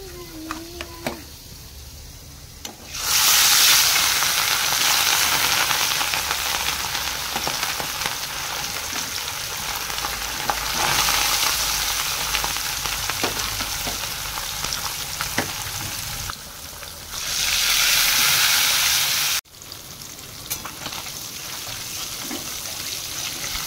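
Fish pieces fry in hot oil with a steady, loud sizzle that swells in bright bursts as more pieces go in, easing back between them, for a fish masala curry.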